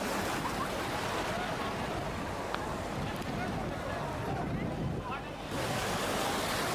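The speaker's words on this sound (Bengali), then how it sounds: "সমুদ্রের গর্জন, বাতাসের ছোঁয়া আর ঢেউয়ের ছন্দে এক অন্যরকম প্রশান্তি।" Ocean surf rolls onto the beach at Cox's Bazar, Bangladesh, in a loud, continuous roar of breaking waves with wind buffeting the microphone. Faint voices are mixed into the background.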